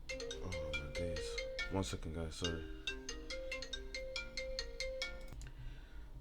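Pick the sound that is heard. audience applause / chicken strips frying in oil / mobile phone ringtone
mobile phone ringtone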